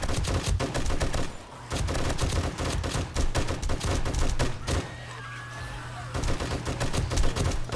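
Light machine gun fire in 7 Days to Die during horde night at the Launch Site, loud rapid automatic bursts with a brief pause midway, close and dominant with no talking.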